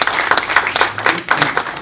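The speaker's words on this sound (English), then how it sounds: "I ask you for a round of applause now for Lawrence" Applause from an audience at a London event on quality partnerships and diets welcomes speaker Lawrence, a brief, even burst of many hands clapping.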